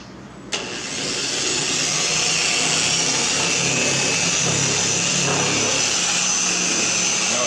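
An electric polisher clicks on and spins up to a steady, loud whirring hum while buffing Meguiar's compound on a Mazda Miata's paint, continuing close and unbroken throughout.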